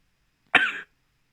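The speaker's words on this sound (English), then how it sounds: "they're like trying to clear my throat again" One short, sharp throat clearing from a nearby person, a single rough burst lasting about a third of a second, alone in otherwise quiet surroundings.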